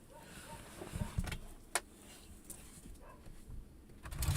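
A pet dog indoors gives a few faint, scattered barks at a distance over a quiet, hissy room background.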